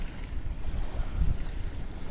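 Ocean waves washing ashore at Rockport, Texas, a steady close rush and surge of surf mixed with gusty wind noise on the microphone, with no voices.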